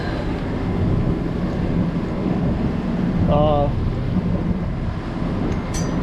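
Steady, strong wind of about 34 knots, gusting to 40, roars and buffets the microphone continuously aboard a sailboat off the Florida Keys, with a brief faint chirp midway.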